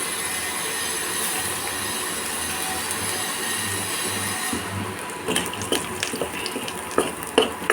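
Chili powder and spices are stirred into a pan of sizzling oil, a steady frying hiss giving way to sharp scraping strokes of a spoon against the pan, close up and without talk.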